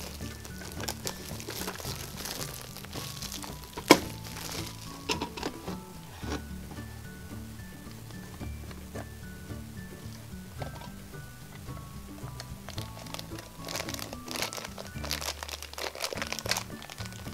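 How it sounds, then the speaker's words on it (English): A gumball wrapper is peeled off near the blue Dubble Bubble gumball machine, giving close, dry crinkling and crunching that runs steadily, with one sharp crack early on and faint music-like tones underneath. "Peel the wrapper."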